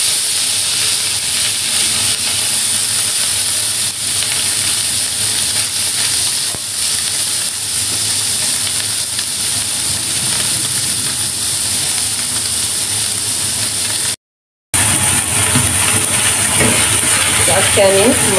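Small mola fish frying in hot oil make a loud, steady, hissing sizzle that runs without pause, then cuts out briefly before the frying noise returns.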